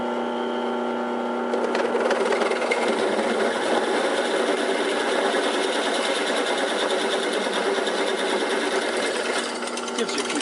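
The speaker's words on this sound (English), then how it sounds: "the nice thing about belt drive drill presses versus the direct drill" Belt-drive drill press bores into robot frame components, a steady dense whirring grind running continuously and close throughout, with no pauses.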